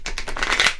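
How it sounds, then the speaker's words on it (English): Tarot cards are shuffled in a quick riffle, a close, rapid burst of papery flutters and soft slaps lasting under a second. "I haven't completely finished shuffling your cards."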